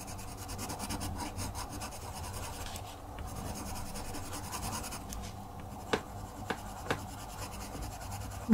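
Steady close rasping and rubbing of a colouring pencil on paper while a sunflower drawing is coloured in, a continuous scratchy texture broken by a few sharp taps near the end.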